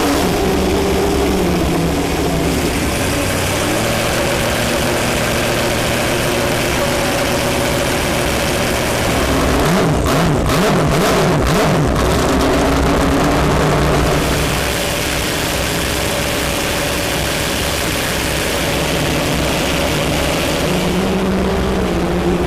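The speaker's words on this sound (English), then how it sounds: "now it's time to fire up the big Aussie V8" Big Australian V8 engine fires up and revs, a loud, deep, steady rumble with a burst of sharp throttle blips midway before settling back to a heavy idle, close and unbroken.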